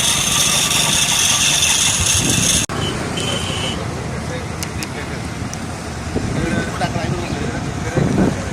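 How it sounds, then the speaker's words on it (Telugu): A tractor used for garbage collection in Nandyal town runs with a steady mid-pitched engine drone outdoors, constant throughout amid roadside noise and wind. "నంద్యాల పట్టణంలో చెత్త సేకరణకు ఉపయోగిస్తున్న ట్రాక్టర్లు"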